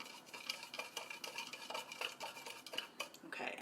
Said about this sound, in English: I'm going to use my thermometer as a stirring rod again